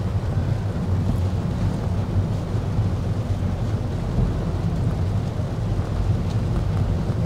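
Heavy rain pours down outdoors in Sapa, Vietnam, a steady, dense rush with gusting wind noise across the microphone and a low rumble throughout, loud and continuous with no voices.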